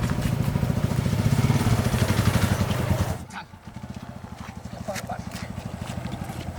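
A motorcycle engine runs steadily at close range with a low, rapid pulsing throb, briefly dipping before picking up again, while people talk over it.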